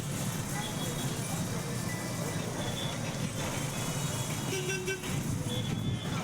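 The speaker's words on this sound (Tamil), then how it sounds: "இங்கே வந்து டிராஃபிக் ரொம்ப ரொம்ப அதிகமாக இருக்குங்க" Heavy road traffic heard from inside a Tamil Nadu state bus between Chidambaram and Trichy, a dense constant engine rumble and road noise with brief horn toots, someone speaking over it.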